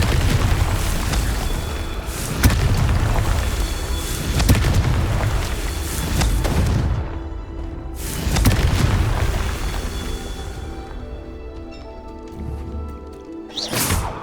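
Confringo blasting spell in Hogwarts Legacy, setting off repeated loud booming explosions with deep rumbling tails, some overlapping, over a dense game soundscape.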